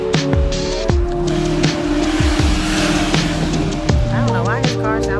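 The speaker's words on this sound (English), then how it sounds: "I don't know why his car sound like that, but he needs to stop turning around" A car turning around on a Sacramento street revs its engine in rising and falling bursts while its tires squeal in short screeches, close and loud, with a voice faintly underneath.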